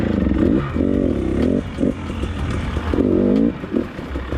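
An enduro motorcycle rides a trail cross-country in Romania, with the rear brake pedal set very low. The engine revs in short rising bursts between quieter stretches, close up, with clattering from the rough ground.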